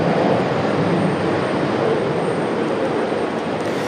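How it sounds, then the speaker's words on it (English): A Southwest Airlines jet arrives at RDU airport, its engines giving a loud, steady broadband roar that holds evenly throughout, with no voices. "A nice smoky arrival for Southwest."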